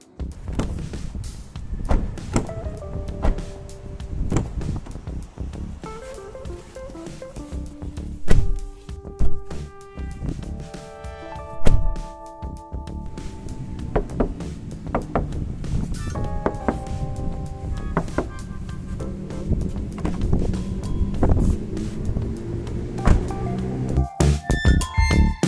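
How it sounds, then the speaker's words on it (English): Stock doors and trunk of a bare Perodua Myvi being shut, a series of thuds and slams spread over the clip amid clunks, rattles and some handling noise, with no talk. "So here is the sound of the stock doors closing and the trunk of the Myvi,"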